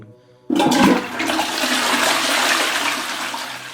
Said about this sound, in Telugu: టాయిలెట్లో నుంచి ఫ్లష్ కొట్టిన సౌండ్ వినిపించింది